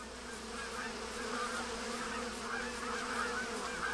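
Bees buzz around beehives in a virtual-world setting, a steady droning hum with a faint goose-like honking mixed in, moderately quiet and unbroken throughout.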